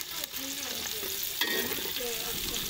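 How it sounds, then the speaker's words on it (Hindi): Onions fry in hot oil for chicken pulao, giving a continuous close sizzle broken by brief stirring scrapes. "ये देखिए गाइस, हमने अभी इसमें ऑयल डाल दिया, तो अभी हम इनको थोड़ा सा ब्राउन करेंगे प्याज को"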